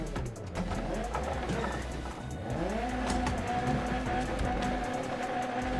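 Rally car engine in the video game Colin McRae Flat Out, revving and rising in pitch as it accelerates out of corners, with tire squeal under a steady, moderately loud drone.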